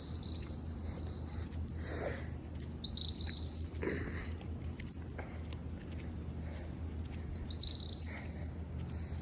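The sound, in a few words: little songbirds singing at a Punta Cana resort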